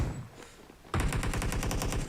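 Automatic gunfire from PUBG Mobile breaks out as a rapid, loud burst of evenly spaced shots, about a dozen in quick succession, after a quieter stretch of game ambience.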